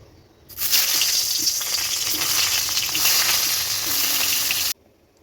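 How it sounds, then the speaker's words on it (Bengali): Eggplant pieces rubbed with salt and turmeric fry in hot oil in a kadai, a steady loud sizzle that starts abruptly and cuts off near the end, with no talking. "এবার ওই একই তেলে এখানে বেগুনগুলোকে ভেজে তুলে নেবো লাল লাল করে"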